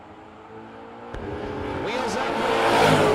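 A junior dragster launches and roars down a drag strip at a no-box bracket race, the engine note climbing steadily louder over a busy crowd-and-announcer backdrop.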